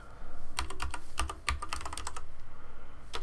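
Fingers tap out a folder name on a computer keyboard, quick clusters of close, crisp keystrokes in short bursts with brief pauses, heard alone without talk.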